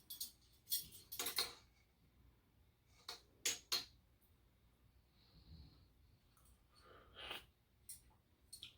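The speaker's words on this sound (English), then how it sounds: "Stir that all around. Try a different spoon this time." A spoon stirring berry soup in a pot, with a few sharp scattered clinks and scrapes separated by quiet pauses, close and fairly faint.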